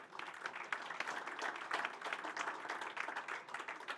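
An audience applauds a photographer at a French event presentation, with continuous, even clapping from a sizeable crowd that stays fairly quiet and distant throughout.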